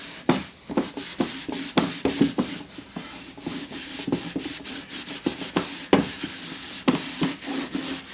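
A rag soaked in lacquer thinner scrubs old paint off a wooden radio cabinet, giving rhythmic, close rasping strokes with sharp scuffs, steady and alone.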